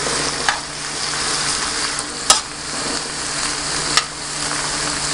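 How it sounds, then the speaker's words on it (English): Corned beef sautéing in a pan, a steady close sizzle with three sharp stirring clicks spaced a second or two apart. "And let that saute."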